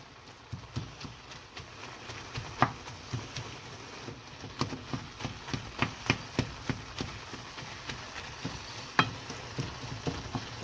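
Minced meat fries in a pan for a lasagne ragu while a utensil chops and stirs it, giving steady soft sizzling broken by repeated sharp taps and scrapes, close up and with no voices.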